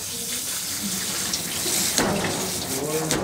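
Water runs steadily from a tap while a cat is washed, a constant close splashing hiss with small surges and faint handling noises throughout.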